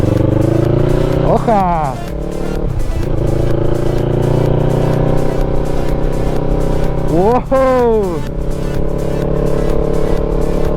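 A Yamaha MT-03 naked motorcycle engine drones loudly and continuously, rising twice in sharp revving sweeps as it accelerates, with someone speaking over it.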